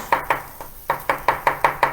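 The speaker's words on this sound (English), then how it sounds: "we can just quickly slice up some mushrooms" A kitchen knife slicing mushrooms on a cutting board for beef Wellington, giving loud, close, rhythmic chops, two quick strokes, a short pause, then six evenly spaced cuts.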